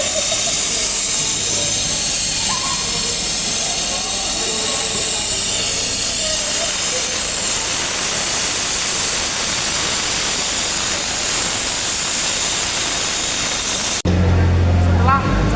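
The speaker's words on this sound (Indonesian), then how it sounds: "sedot cairan gula menggunakan vakum dengan cara masukkan selang kompresor ke dalam vakum dan masukkan selang selanjutnya ke dalam mesin" A vacuum sucking sugar liquid out of an engine through a compressor hose, a loud continuous rushing hiss and roar that holds steady, then cuts to a lower rumbling hum near the end.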